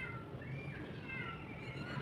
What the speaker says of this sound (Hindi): एक बिल्ली यहाँ से गई है